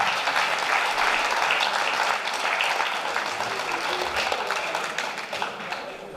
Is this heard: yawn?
no